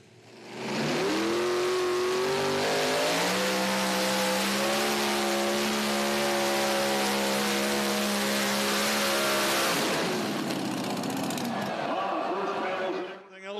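Unlimited-class pulling tractor engines fitted with large blowers fire up trackside, building into a loud, sustained, throbbing roar with a steady droning pitch that holds for about ten seconds before cutting off, while an announcer talks over it.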